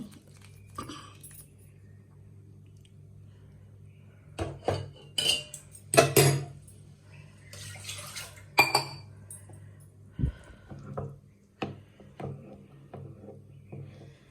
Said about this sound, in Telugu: సగ్గుబియ్యం కూడా దీంట్లో కలిపేద్దాం